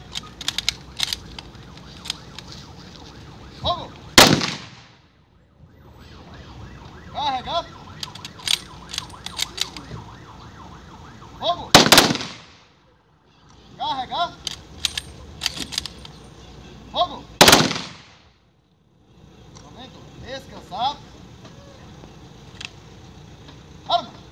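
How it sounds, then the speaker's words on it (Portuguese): Three sharp, loud ceremonial rifle salute volleys crack out at spaced intervals at a funeral procession ceremony, each followed by quiet, with faint metallic clinks and rustling between them. "Para salvas de tiro."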